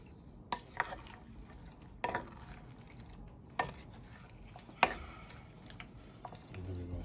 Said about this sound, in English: Mix this up, flip it up, mix it in.